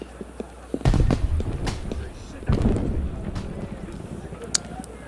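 Fireworks explode during the Festival of the Supreme Being in Assassin's Creed Unity: two loud booming bursts, each followed by crackling and a rushing tail, with a few sharp pops near the end.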